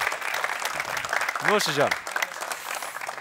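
Applause from a studio audience on a live entertainment show, a steady clatter of clapping that runs throughout with a voice speaking over it and a brief sung or intoned phrase in the middle.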